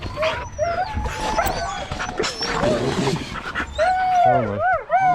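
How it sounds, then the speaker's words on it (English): Excited dogs bark, yip and whimper close by in a busy, overlapping burst of high whines and sharp barks, with rising whimpering cries toward the end. "Our dogs are a little bit crazy."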